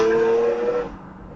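Cars approaching on a UK road, caught from a dashcam car, make a brief engine and road rumble with a tonal whine that fades away within about a second.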